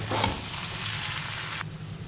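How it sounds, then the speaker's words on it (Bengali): Paneer stirred into sautéed mixed vegetables in a pan, giving a close, steady sizzle with a brief louder burst of stirring near the start, then an even hiss that softens toward the end. "এবার আমি এর মধ্যে পনিরগুলো দিয়ে একটু নাড়িয়ে নেব।"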